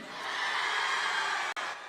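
A crowd at the police-organised Gadchiroli marathon event in Gadchiroli applauds and cheers in a steady, dense wash of clapping that is briefly cut off near the end.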